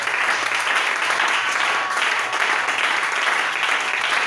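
Audience in a church breaks into sustained applause, a dense, steady wash of many hands clapping together from start to finish.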